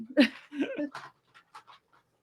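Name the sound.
dog panting while eating treats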